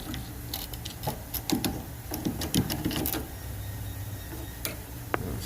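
A screwdriver works loose a part near the fuel tank of a Honda Accord, giving a quick run of close metallic ticks and clicks, with one sharp click near the end.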